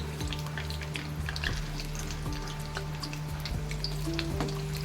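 Chili vada, green chilies coated in besan batter, frying in hot oil with a steady close sizzle and occasional crackles and small pops throughout.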